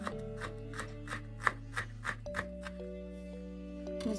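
A knife chops garlic steadily on a cutting board, about a dozen evenly spaced taps, close and fairly quiet over a sustained musical hum.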